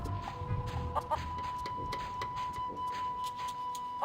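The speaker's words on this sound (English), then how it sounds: "Plunder Island feral chicken." A feral chicken in The Curse of Monkey Island video game clucks in short, soft bursts over a steady ambient tone and scattered clicks.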